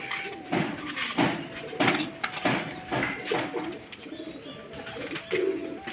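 Pigeons kept at home coo nearby in a steady run of soft, rhythmic, repeated calls, with a few faint knocks in the background.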